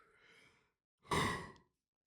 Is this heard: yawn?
yes